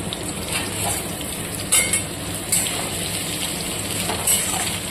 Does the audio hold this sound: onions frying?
yes